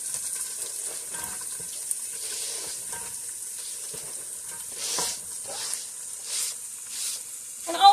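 Celery, half a large onion and carrots frying in hot oil in a pot, a steady close sizzle with occasional stirring scrapes and shuffles running throughout.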